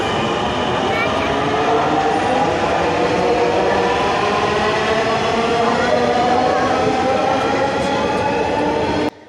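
Inside or beside a Dhaka metro rail train, a loud, steady, close rumble and whine of the moving train continues throughout, then stops abruptly at the very end.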